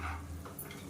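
Chicken biryani masala being stirred in a pot, a brief soft scrape and rustle of a spoon through the thick mixture with a faint sizzle beneath.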